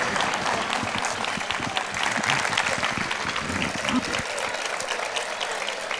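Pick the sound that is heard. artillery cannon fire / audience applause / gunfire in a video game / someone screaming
audience applause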